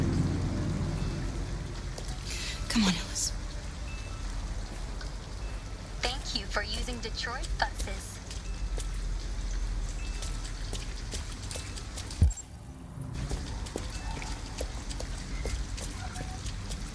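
Steady rain falls in the video game Detroit: Become Human, a constant dense hiss with occasional louder gusts, while voices talk over it.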